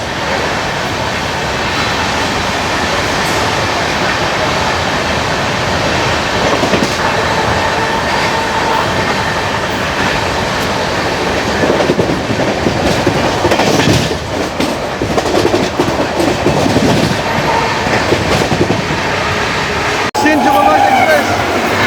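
A Garib Rath express between Hazrat Nizamuddin and Chennai rolls steadily along the rails, a continuous rumble with rhythmic clatter throughout, a brief squeal near the end, and a voice talking faintly over it.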